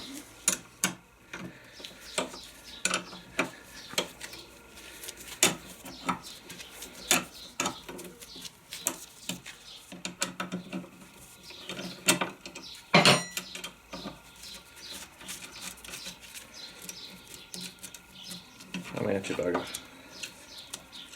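Bolts come off the sprocket of a Suzuki DR650 motorcycle. Metallic clicks and ratchet-like ticks sound close by in irregular bursts, with someone talking in between.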